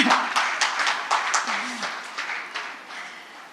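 An audience claps at a talk about music: scattered, uneven claps from a small crowd that taper off as a voice speaks over them.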